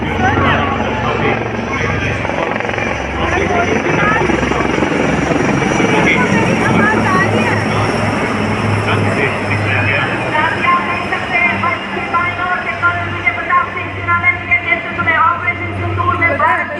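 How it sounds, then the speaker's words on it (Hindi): Several Indian Army Rudra attack helicopters pass over the Republic Day parade, a loud, continuous rotor drone with a deep pulsing beat that holds steady and close throughout. "स्वदेश में आधुनिक हथियार से लैस भारतीय सेना के कई हेलीकॉप्टर रुद्र"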